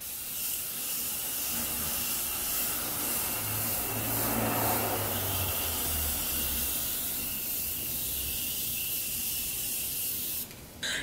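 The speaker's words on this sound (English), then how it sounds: "using the same Morphe setting mist, I'm going to go ahead, cover my eyes, and give myself a little spritz" Morphe setting mist sprayed onto a face as a steady hiss of fine spray lasting several seconds, close and fairly loud, with no talking.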